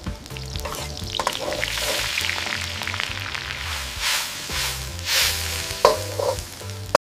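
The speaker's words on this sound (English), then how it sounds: "Film a chef in a kitchen slicing vegetables and cooking a dish on a stove." Synthetic kitchen soundscape of a chef cooking on a stove: a steady frying sizzle with stirring and scraping, some knocks and clatter, and a low tonal hum underneath.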